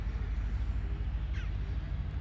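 Crows caw faintly in the distance over a low, steady rumble of wind or traffic, with only a couple of brief calls audible.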